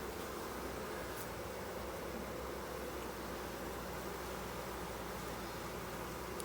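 Honeybees in a starter hive hum with a steady, calm, even buzz that holds close and continuous throughout, with no voices.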